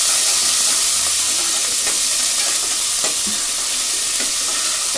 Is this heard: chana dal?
yes